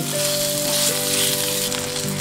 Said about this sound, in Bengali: ক্যাপসিকাম ভাজা হয়ে গেছে